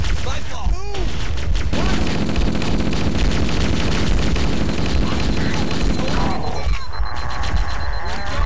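Dense, continuous gunfire crackles through a Halo: Combat Evolved firefight, loud and close with rapid bursts and booms layered over one another, and a voice speaks briefly amid the shooting.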